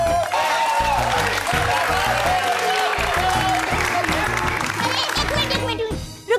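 Studio audience applause in a comedy scene, with loud, dense clapping and some cheering rising and holding steady throughout, while a musical sting or backing sound plays underneath.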